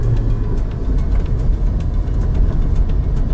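Low rumbling interior road noise from a new Lada Niva driving on non-winter tires, steady engine and tire drone with faint periodic ticks, close and continuous.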